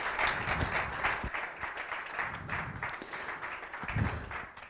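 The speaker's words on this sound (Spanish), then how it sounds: "Quiero que entre todos nosotros darles un aplauso" Audience applause for a speaker at a public talk on rescuing cultural heritage after a flood, a steady wash of clapping from a crowd with a few louder individual claps standing out.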